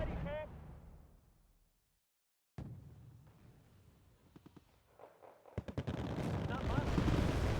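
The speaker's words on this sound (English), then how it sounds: "This is mortar." Mortar rounds fire in the strategy game Wargame: Red Dragon, a series of sharp, thumping reports in quick succession building toward a dense, noisy battle, with a character voice speaking early on.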